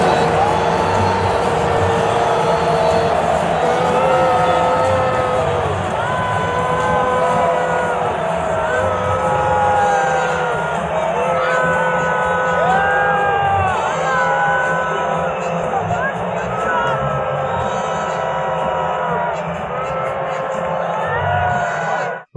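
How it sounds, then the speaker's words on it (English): A large US Open stadium crowd boos Donald Trump in a sustained, loud roar of jeering voices with scattered whoops and shouts, continuous for about twenty seconds before cutting off abruptly. "that crowd booing Donald Trump"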